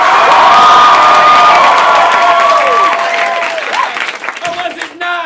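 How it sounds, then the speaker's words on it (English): A live audience at a comedy improv show breaks into loud, dense applause with cheering and shouts. The sound is close and strong, then fades and grows patchy, with a few scattered whistles and voices near the end. "Applause for both teams, but applaud loudest for the team you thought was the most badass."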